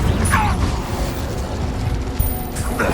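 A fiery Incendio spell bursts out in the video game Hogwarts Legacy, a dense, roaring whoosh of flame with booming crackle that stays loud and steady for the whole three seconds.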